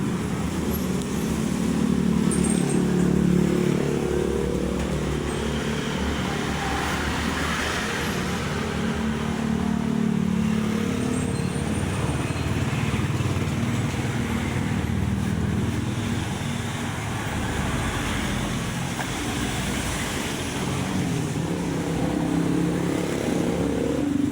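A motorcycle engine runs steadily for the whole stretch, a continuous low rumble with wind buffeting the microphone and no talk over it.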